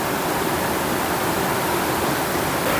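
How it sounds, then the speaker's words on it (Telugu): Flowing water of the Godavari river at Mothugudem makes a dense, constant rushing wash, close and uniform for the whole moment, with no talking. "ఫుల్ వాటర్ సౌండ్ అయితే ఫుల్ వస్తుంది."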